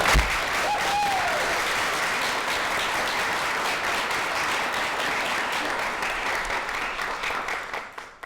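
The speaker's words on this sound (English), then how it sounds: "I'd like to start with a round of applause for the students." An audience at a school signing-day event claps for students, a loud and even wash of applause that holds steady for several seconds and then fades out near the end.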